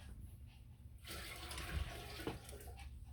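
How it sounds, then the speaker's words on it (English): Quiet room, then a sudden rush of water poured out of a basin splashes into a sink, close and steady for a couple of seconds. "I would then take the water and dump it."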